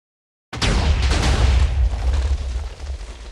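TNT chaos cannon in Minecraft detonating after half a second of silence, a loud booming blast whose roar rolls on and slowly thins over the next few seconds.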